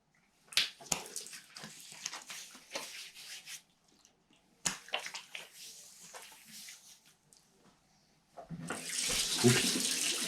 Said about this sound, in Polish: Ja tutaj zapodałem wodę żeby wzbudzić mydło